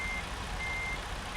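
A Western Star 5700XE truck backing a trailer in American Truck Simulator, its reversing alarm sounding as a steady high electronic beep over a constant low engine rumble; no voices.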